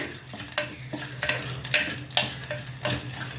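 Urad dal, mustard seeds, cumin, dried red chillies, curry leaves and crushed garlic frying in hot oil while being stirred, a steady close sizzle broken by sharp scraping stirs, with no voices.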